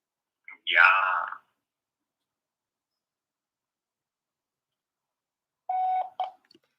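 Short electronic voicemail beep on a phone call, a clear tone near the end of a quiet stretch, preceded by a brief burst of voice.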